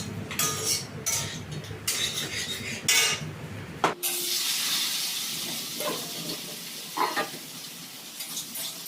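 Eggs frying in oil in a pan in a home kitchen on a rainy day: first a clattering stir of utensils against the pan, then a steady, close, hissing sizzle that carries on alone to the end.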